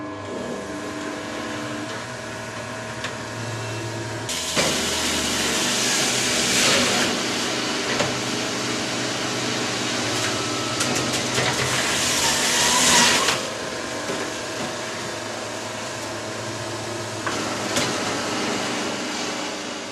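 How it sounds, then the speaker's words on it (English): Magimix Le Duo XL and Catler juicers juicing a kilo of tomatoes, their motors humming steadily with loud grinding, hissing surges as fruit is pushed through, then dropping back toward a quieter whir, fairly close. "So juicing right along, we're moving on to tomatoes now."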